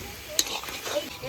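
Hot chilli powder fries in a pan with a brief, soft hiss and a quick utensil scrape, heard alone at low level.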